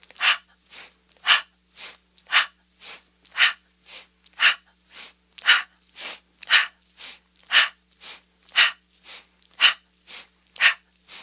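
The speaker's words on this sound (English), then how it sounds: "So the breath is quicker. It's a nose in and a ha out." Rapid rhythmic yoga breathing, a quick sniff in through the nose and a forceful huffed exhale, repeating about twenty times at an even pace, close and clear against a quiet background.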